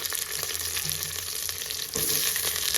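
Eggplant pieces go into a hot pan of oil for sambar, the close, steady sizzle of frying surging louder partway through as the vegetable lands, with faint stirring scrapes underneath.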